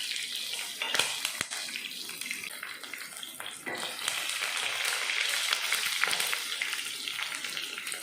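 Curry leaves with green and red chillies frying in hot oil with cumin and white urad dal, a steady bright sizzle and crackle with a few sharp pops, close and continuous throughout.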